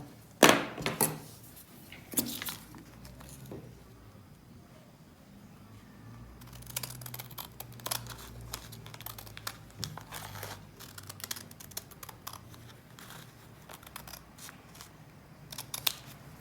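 Scissors snip out a corset dress pattern piece along a curve, with a few louder cuts early on, then a steady run of close, crisp snips and paper rustles, with no talk.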